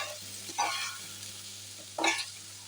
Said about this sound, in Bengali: টমেটোগুলোকে একটু নেড়ে নেব